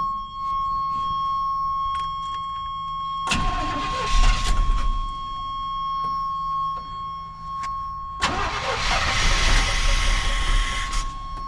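A 1989 GMC Sierra StepSide engine cranks in two loud bursts separated by a quiet gap, with a steady electronic chime underneath and no voices.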